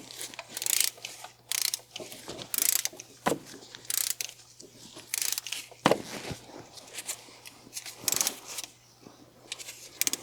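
A torque wrench clicks in rapid ratcheting bursts as lower intake bolts are tightened in sequence to 13 newton meters. The bursts are separated by short pauses and sound close, crisp and metallic, with no talk.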